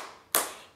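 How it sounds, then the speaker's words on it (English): A single sharp hand clap, close and crisp, lands alone against quiet, as hands clap along to a children's song. "If you're happy and you know it, clap your hands."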